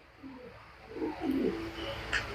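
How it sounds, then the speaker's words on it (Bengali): A large female racing pigeon gives soft, low cooing calls in a couple of rising and falling phrases, fairly quiet and close, with no talking. "এই দেখেন লাল চোখের একটা মাদি কবুতর"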